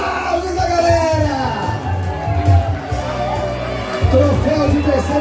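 Crowd at a race awards ceremony cheering and applauding for the women runners, a steady roar of voices with whoops and shouts, loud and continuous, with some talk mixed in.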